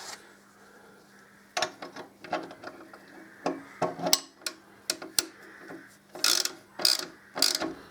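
Fastener on the belt guard of a Harley Davidson Deuce motorcycle being tightened, a close series of sharp ratcheting clicks coming in irregular bursts, then louder rapid strokes near the end.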